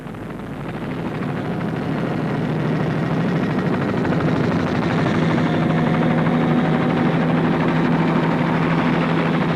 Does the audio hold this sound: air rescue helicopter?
yes